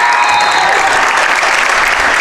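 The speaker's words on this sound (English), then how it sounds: "This crowd here at TJ getting alive" A high school boys basketball crowd in a home gym cheers and applauds steadily, a dense, loud wash of clapping and voices that never lets up.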